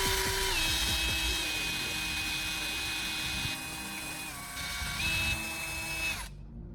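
A power drill bores pilot holes into a wooden guide built to hold a chisel: a steady, close mechanical whine with brief pitch dips as the bit bites, running alone before cutting off near the end.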